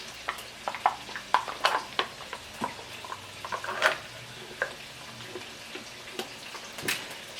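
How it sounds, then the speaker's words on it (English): A spoon stirs Greek yogurt together with cucumber, making soft, irregular wet clicks and scrapes in an otherwise quiet kitchen. "we're going to combine the Greek yogurt with the cucumber"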